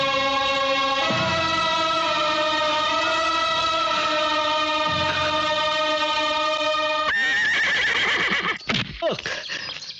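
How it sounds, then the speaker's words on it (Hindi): A horse neighs loudly in a long, drawn-out whinny that fills most of the stretch, followed by a burst of clattering and rustling near the end. "हाँ है, मेरा घोड़ा जो मुझे जरूर पहचानेगा।"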